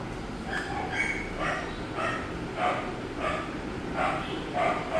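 A dog barks repeatedly in short, yappy bursts at a steady rhythm, somewhat distant against a constant background hiss.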